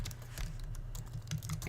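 Quick, uneven clatter of keys being struck while typing Java code on a computer keyboard, fairly quiet and close, with no voice.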